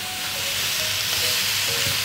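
Green beans, potatoes and corn stir-frying in a hot wok with soy sauce, a bright constant sizzle with occasional utensil scrapes nearby, no voices.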